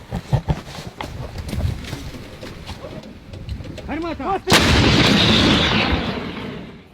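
Ukrainian artillery fires one loud, close blast that booms and rolls off for a couple of seconds, after scattered bird calls, knocks and people talking.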